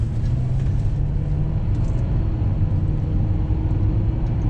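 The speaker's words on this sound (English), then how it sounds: "we'll hit the gas and see what you can hear. Here we go, almost wide open throttle." A Lincoln Town Car accelerates at nearly wide open throttle, heard from inside the cabin as a steady, muffled low engine and road rumble that stays smooth and even throughout.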